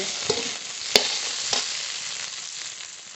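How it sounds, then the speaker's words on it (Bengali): Drumstick stalks fry in oil as a spice paste of cumin, poppy seed, mustard and green chilli goes in: a close, steady sizzle with a few sharp stirring clinks and scrapes, and no voices. "ডাটা ভালো করে ভেজে নিয়েছি এবার এই মশলাটা দিয়ে দেব"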